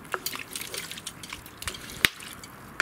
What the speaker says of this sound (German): jetzt kommt ein guter Schluck Wasser mit hinzu